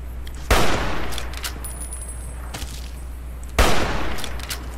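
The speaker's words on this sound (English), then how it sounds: "Why are you shooting me?" Gunfire in the video game Fallout: New Vegas: two sharp, loud shot bursts about three seconds apart, each trailing into a ringing decay over a low steady hum.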